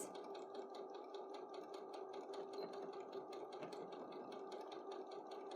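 A sewing machine running steadily while stitching a straight seam, with a continuous even motor hum and a rapid regular needle clatter throughout, close and moderately loud.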